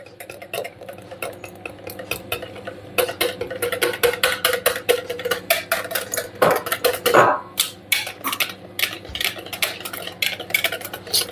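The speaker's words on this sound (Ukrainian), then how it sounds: "Вінчиком одразу швиденько перемішуємо." A wire whisk quickly stirs a gelatin jelly mixture for a layered dessert in a bowl, producing rapid, rhythmic metallic clicks and scrapes against the bowl that build in intensity and continue steadily.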